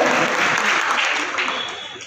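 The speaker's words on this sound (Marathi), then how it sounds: "जोरदार टाळ्या वाजवून" Audience applause at a birthday celebration honouring a well-known poet, a dense, steady clapping from a crowd that fills the whole stretch, loud at first and easing slightly toward the end.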